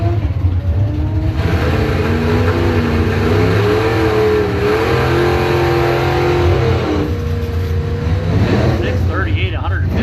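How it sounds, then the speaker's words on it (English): A 1967 Pontiac Firebird revving hard on a drag strip at a Bowtie Challenge evening event, its engine note rising and shifting through gears, loud and close, with a crowd and announcer murmur underneath. "Mike Dewey, 67 Firebird from Roscommon."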